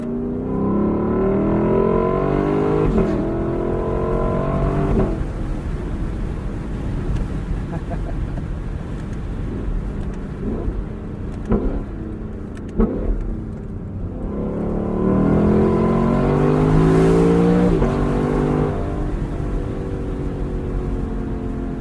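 A 2021 Lexus LC 500 Convertible's V8 exhaust roars through hard acceleration with traction control off, climbing through gears with rising notes, brief shift breaks and crackles, loud from inside the open cabin, with a voice speaking over it.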